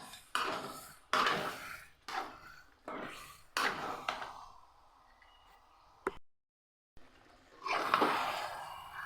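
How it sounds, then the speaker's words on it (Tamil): A spoon stirs thick chicken gravy in a metal pan, making a series of scraping, clattering strokes about once a second. There is a short pause near the end before the stirring resumes. "அடி பிடிக்காமல் கலந்து விடுங்க"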